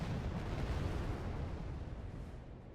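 Artillery fire in the wartime strategy game Wargame: AirLand Battle comes across as a faint, distant rumbling boom that slowly dies away.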